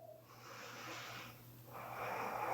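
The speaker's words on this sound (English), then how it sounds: "In through your nose, out through your nose." Slow breaths in and out through the nose during a yoga practice, two soft airy breaths, one after the other, close and faint over a low steady hum, with no talking.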